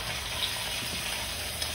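Chicken pieces go into a pan of frying onion and garlic, giving a steady, loud hissing sizzle throughout with no break and no talking.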